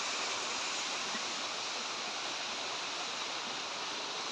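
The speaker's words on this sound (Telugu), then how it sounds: "వాటర్ చూడండి ఫ్రెండ్స్ ఎంత బాగా దూకుతుందో" A waterfall pours steadily, a dense, unbroken rush of falling water that stays loud and even throughout with no voices over it.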